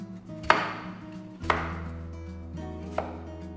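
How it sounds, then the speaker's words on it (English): Knife rough-chopping small red peppers on a cutting board for a venison roast, three sharp separate thuds spaced about a second apart over quiet background music. "This is a super rustic, rough chop here."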